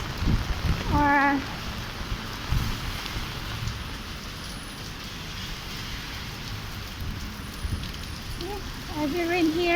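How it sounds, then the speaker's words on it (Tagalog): Heavy rain pours steadily in Macau, a dense continuous hiss close by, with a few voices briefly speaking over it. "heavy rain here, heavy rain in Macau"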